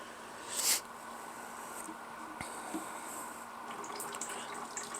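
Water poured onto an indoor plant, a steady faint trickle running throughout with one brief louder splash near the start.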